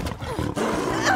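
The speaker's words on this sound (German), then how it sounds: "Was ist das für ein Tiger?" A deep, rumbling tiger roar in the Shadow of the Tomb Raider video game, loud and sustained over dense game ambience and music, with a voice faintly under it.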